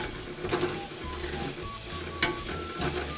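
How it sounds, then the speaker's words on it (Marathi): Soaked toor dal is stirred into a sizzling onion tempering in a pan, a spoon scraping and clinking against the metal in short strokes over a soft, steady sizzle, with no voices. "अर्धी वाटी तुरीची डाळ घातली आहे मिक्स करून घेऊया"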